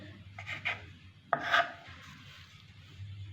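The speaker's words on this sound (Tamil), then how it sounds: "நான் வந்து இந்த கொயர் ஷேப்பில் தான் கட் பண்ணிக்கிறேன்" A knife cuts rolled-out maida dough into square pieces, making a few soft, close scraping and rasping strokes on a board, with one sharper tap in the middle and quiet pauses between.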